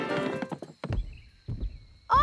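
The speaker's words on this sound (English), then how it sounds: "I can hear footsteps." Cartoon footsteps approaching in a children's animated show: a few hollow clip-clop thuds spaced irregularly, fairly close, with a sustained musical tone underneath and a brief burst of sound at the end.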